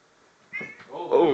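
Two cats fighting let out a rising, strained meow that swells into a drawn-out caterwaul, close and loud, over a short stretch.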